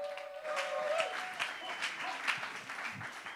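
A church congregation applauds a couple being welcomed at a service, with steady, dense clapping from a crowd at moderate distance, sustained throughout with a faint voice mixed in.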